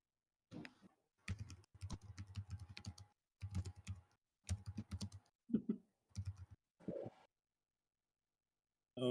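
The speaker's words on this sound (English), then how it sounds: "I thought I heard you typing." Computer keyboard typing during an online tabletop game session, coming in quick close bursts of keystrokes with short pauses between, fairly clear and with no talk over it.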